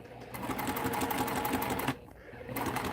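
Juki TL18 sewing machine stitching a seam at a steady fast rhythm, running close and loud, pausing briefly near the end before starting again.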